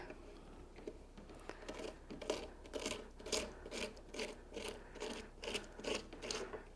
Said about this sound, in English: you can take a spoon and just go in with your spoon and just scrape out those seeds